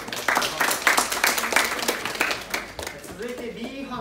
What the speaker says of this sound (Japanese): 拍手でお願いします